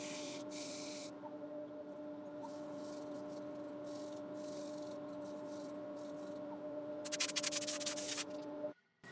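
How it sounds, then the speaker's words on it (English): A small wood burl spins on a woodturning lathe while being sanded up to 400 grit: a steady, faint motor whine under a soft abrasive hiss, with a brief scratchy burst near the end before it stops. "So now that's all the sanding done."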